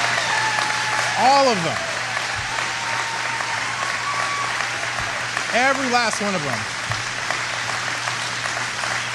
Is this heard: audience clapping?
yes